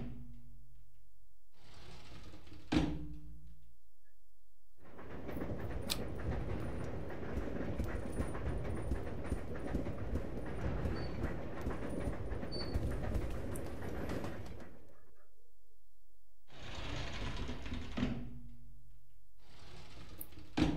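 Steady rumble and rattle of a moving train carriage in the game Resident Evil Zero, running continuously for about ten seconds between quieter stretches with brief clanks and tones.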